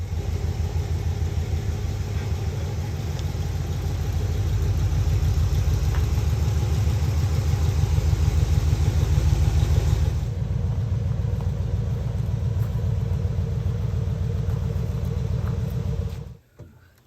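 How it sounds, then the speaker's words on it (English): A 1955 Chevy short bed truck engine runs cold, a steady low rumbling idle with a pulsing beat that holds loud and close, then cuts off near the end. "I'm going to start her cold right now, just put the drive shaft in and pull it forward a little bit."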